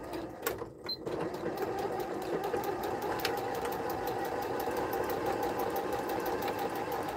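A sewing machine stitches a twill tape seam on reusable fabric gift wrap, running in a fast, steady mechanical whir after a brief stop-start at the beginning, close and moderately quiet.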